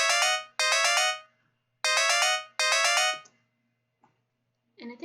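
A synthesized note pattern plays in Bosca Ceoil music software, bright chiming tones in four short repeated bursts, loud and close, followed by a brief bit of speech.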